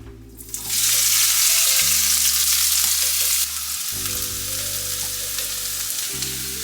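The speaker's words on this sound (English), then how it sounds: "you're cooking up your onion, lighten it up, soften it up" Chopped onion and garlic sizzle steadily in a hot pan while being cooked down for a garlic sauce, a loud, continuous frying hiss with some stirring, alongside a persistent low tonal hum and no talk.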